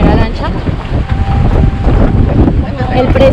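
Motorboat crossing from Colombia to Panama by sea, its engine rumbling loudly under heavy wind buffeting and water noise, steady and close throughout.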